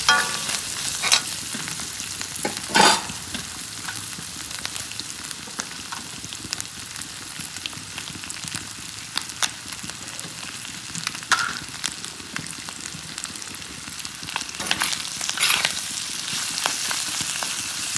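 Fish head and intestine frying with green chili in a pan, a steady close sizzle broken by the scrape and clatter of stirring, with a few louder utensil knocks; no one speaks.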